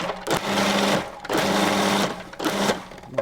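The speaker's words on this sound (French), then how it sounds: "je vais utiliser la pulsion pour concasser les oignons" A Magimix food processor pulses three times to chop onions, each burst a loud, close, whirring motor buzz lasting about a second, separated by short pauses.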